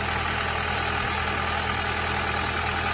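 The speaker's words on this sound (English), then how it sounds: "I didn't think this engine could get quieter." A Honda Prelude engine idles steadily right after a valve lash adjustment, a close, even, continuous hum and mechanical whir with no voices.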